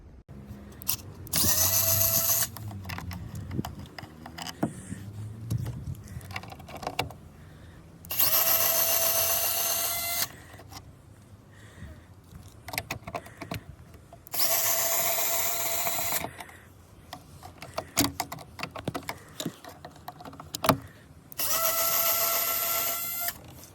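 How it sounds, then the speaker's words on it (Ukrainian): A power drill or driver unscrewing the bolts on a Volkswagen Passat B6 side mirror housing, four loud bursts of whirring, each a couple of seconds long, separated by quieter handling clicks and rattles. "Тут є у нас болти. Треба їх повідкручувати"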